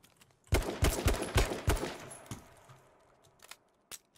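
Rapid bursts of gunfire in the battle royale game H1Z1 King of the Kill, a loud cluster of shots over about two seconds followed by a few isolated, fainter cracks.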